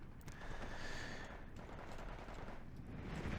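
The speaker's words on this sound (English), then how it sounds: "Sherman 5 now going to machine gun at my Sagittario" A Sherman tank machine gun firing in the Steel Division 2 strategy game, a continuous rattling burst with distant battle noise, loud and steady with no talking.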